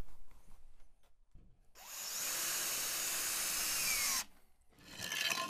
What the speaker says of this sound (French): Je fixe d'abord une vis au milieu et ensuite je pourrai retirer les cales qui se trouvent en dessous.